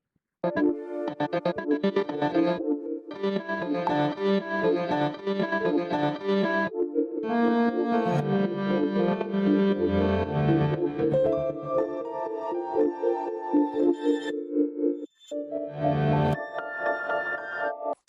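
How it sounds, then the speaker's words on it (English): A gritty, distorted synth lead from an electronic track plays a busy melodic line, bright and buzzing, with a short pause near the end before resuming. "Got a little bit of distortion on some of it just to kind of make it sound gritty, but that's the leads."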